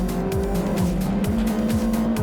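MG Trophy race cars launch together at Donington Park, a loud roaring pack with engines revving and repeated rising gear-change sweeps, several cars blending into one continuous racing blare.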